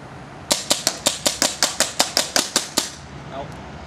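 A Kingman Training Chaser paintball gun fires off a magazine in a quick, even string of about fourteen sharp, close pops, then stops abruptly.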